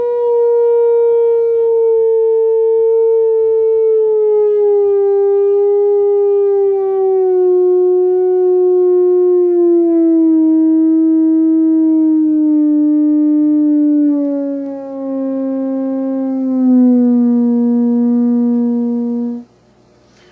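A single smooth, pure theremin tone glides slowly downward in pitch over about twenty seconds, steady and loud, with no breaks and no voices.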